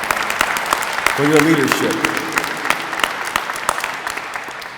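Audience applause at a Cleveland and Cuyahoga County public event on ending HIV and AIDS, with sustained clapping from a crowd throughout and a speaker's voice over it at first.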